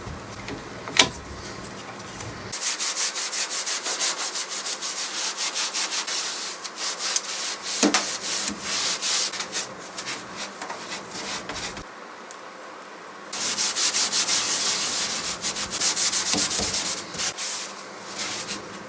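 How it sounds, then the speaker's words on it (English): Hand sanding on a 1950s Jentique wooden writing bureau's legs, a steady rasping rub in long continuous passes with short pauses between, close and fairly loud. "So I'm going to do a bit of sanding on this, a bit of sanding on these legs"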